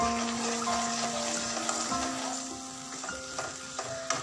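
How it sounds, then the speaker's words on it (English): Sauces and half a cup of water are stirred vigorously into browning arbi (taro root) in a hot frying pan, giving a steady close sizzle with soft scraping and bubbling and no voices. "Add half a cup of water and stir it rigorously."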